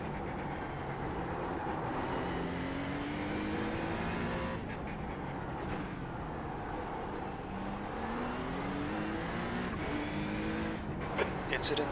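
A GT3 race car in the iRacing simulator at the Long Beach street circuit drones past, its engine pitch climbing and sagging through gear changes in a steady, moderately loud roar that continues throughout.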